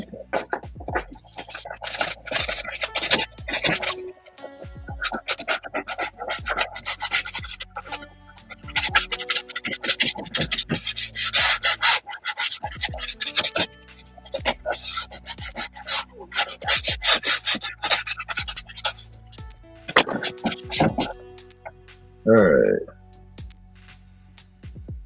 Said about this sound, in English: Once again, I'm going to sand the area.